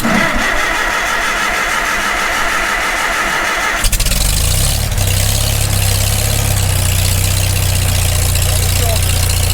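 An engine is cranked with no choke and catches near the four-second mark. It then settles into a loud, steady, rumbling idle, heard close up. A whirring cranking noise comes before the start.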